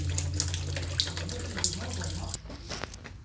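Coolant drains from the engine of a 2001 Honda Odyssey 3.5 V6 during water pump work, a continuous close splattering trickle that suddenly thins out near the end into lighter drips.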